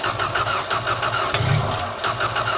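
Cranking 1990s Genie man lift engine, a steady churning starter rhythm with low mechanical rumble that swells briefly mid-clip, close and continuous.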